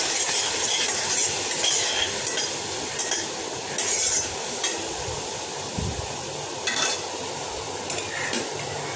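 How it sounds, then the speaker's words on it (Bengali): Cumin, coriander and turmeric powder are stirred into a frying pan, with a steady close sizzle under repeated scraping strokes of the spoon against the pan. "তারপরে জিরের গুঁড়ো ধনের গুঁড়ো আর হলুদ গুঁড়ো তার মধ্যে ঢেলে দেবো। দিয়ে আবার ভালো করে আঁশাতে হবে।"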